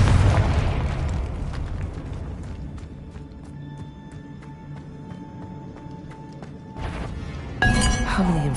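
Confringo spell explosion in the Hogwarts Legacy video game, a loud booming burst at the start that fades out, with sparkling chimes and a second crackling magical blast near the end.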